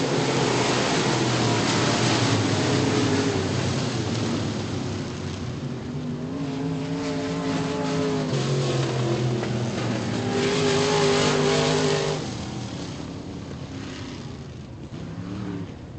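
Modified race cars roar across the start-finish line at Bill Sawyer's Virginia Motor Speedway, a loud, continuous engine drone with revving and passing cars, heard from close by without talk.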